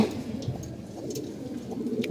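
Molting pigeons coo softly in low, continuous murmuring, heard from nearby over a quiet background.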